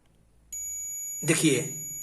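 A multimeter gives a continuity-test beep while tracing the VGL voltage line on a display panel circuit board: one steady high beep held for about a second and a half, with a brief louder rustle near its end.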